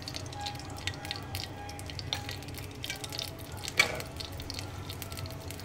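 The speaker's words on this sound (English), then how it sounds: "Okay, now the oil has been heated up. I'm going to add a teaspoon of the mustard seeds." Mustard seeds sizzling and popping in heated olive oil for an Indian-style cabbage stir fry, a soft steady crackle with scattered small pops and one sharper burst, no talking.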